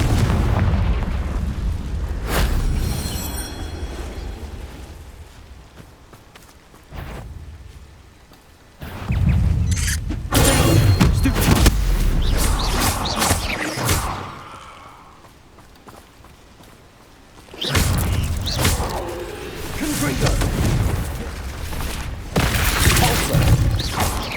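Spell explosions in the video game Hogwarts Legacy: repeated heavy booms and crackling blasts rolling through sustained rumbling combat noise, loud and close, with bursts separated by brief quieter gaps.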